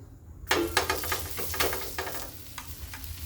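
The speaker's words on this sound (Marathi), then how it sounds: "तवा गरम करायला ठेवलेला आहे थोडंसं तेल टाकून घेतलं" After a brief quiet start, oil bursts into a bright, crackling sizzle on a hot griddle while cabbage parathas are being made, and keeps hissing steadily, with a few light clatters.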